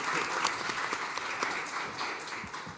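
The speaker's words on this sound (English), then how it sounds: "Round of applause for Ertharin, please." Steady, dense applause from a conference audience after a panel on financing and transforming food systems, sustained and fairly loud throughout with no talk over it.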